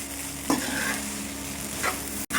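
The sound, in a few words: stirring chicken fried rice with sauces in a pan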